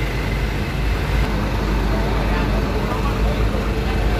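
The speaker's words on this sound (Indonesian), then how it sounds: "Dan bus Mira namanya bersiap nih untuk diberangkatkan" Engine running as a Mira bus readies to depart from a packed terminal at the height of the holiday exodus; a continuous low drone and crowd murmur with people talking nearby.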